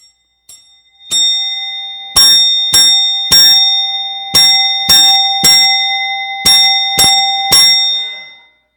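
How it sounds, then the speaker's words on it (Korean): Church bell ringing in a series of loud, evenly spaced clanging strikes with long ringing tails, about nine strokes in a steady rhythm, heard alone without talk. "교회 종소리가 들린 거예요."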